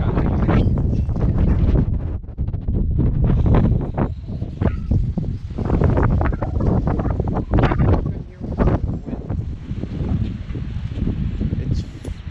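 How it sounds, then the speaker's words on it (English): Heavy wind roars and buffets the microphone in strong, uneven gusts outside the Gene Winfield museum, loud and close throughout with brief lulls. "It's windy as fuck, man."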